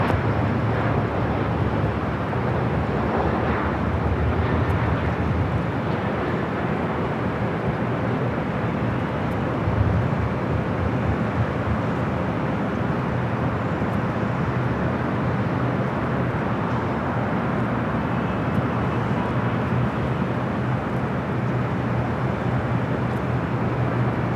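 Heavy jet taking off from the south side of LAX, a steady broad roar holding at constant loudness throughout, with rumble and wind-like wash and no talk.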